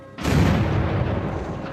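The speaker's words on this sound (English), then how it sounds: "As day breaks on the morning of March 15th, they hear a loud explosion." A loud explosion at the Fukushima nuclear plant, a single heavy boom with a sharp onset and a broad rumbling tail that slowly fades over about a second and a half.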